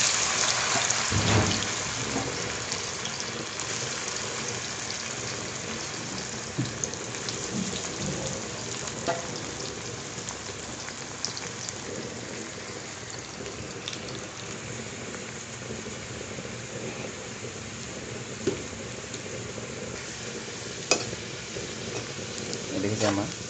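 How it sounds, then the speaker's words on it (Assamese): Okra fries in hot oil with a loud, constant, close sizzle that crackles steadily throughout, with faint occasional pops and a voice speaking over it. "আমাৰ তেল গৰম হৈ গৈছে, এতিয়া দি দিওঁ"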